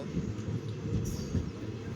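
A passenger train at Lathi station in Gujarat rumbles steadily as it sets off toward Junagadh, a dense low drone of wheels and carriages with a faint high whine near the middle, no voices.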